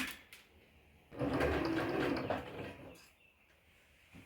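Sewing machine stitching a hem on a stretch-fabric shirt, a short run of fast whirring lasting about two seconds, close and clear, with quiet handling noise before and after.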